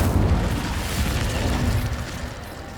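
An Incendio fire spell is cast in the video game Hogwarts Legacy, producing a loud, deep whooshing roar of flame that starts strong and holds for a few seconds before gradually fading.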